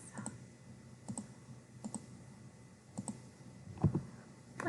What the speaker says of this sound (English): So I'm clicking all the lines in my face.